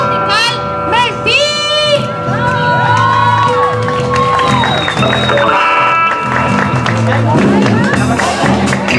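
A festival singing-contest crowd cheers, whoops and claps for a musical group, loud and continuous, with shouting children and a voice heard over the din.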